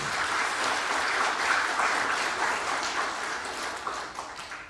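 A church congregation at a Sunday worship service claps together in a sustained, even burst of applause that fills the room and slowly tapers off toward the end.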